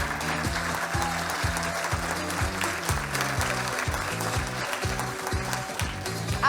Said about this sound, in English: Please keep the claps going